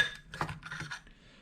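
A spoon scrapes around a bowl of BBQ pork marinade in a few quick, faint rubbing strokes close by, with no talk.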